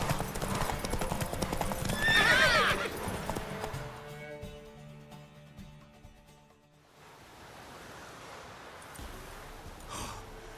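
Horse hooves clip-clop steadily in The Witcher 3, and a loud whinny rises near the start before the hoofbeats fade into a soft ambient wash, with no talking.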